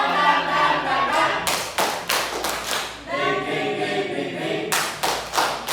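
Students in a classroom perform a rhythmic spirit clap during a micro-teaching Islamic education lesson, a few sharp bursts of group clapping standing out between stretches of talk and classroom murmur.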